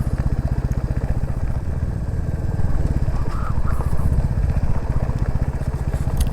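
Royal Enfield Classic 350 single-cylinder motorcycle riding an off-road gravel track, a steady loud thumping engine throughout with clattering over the rough ground.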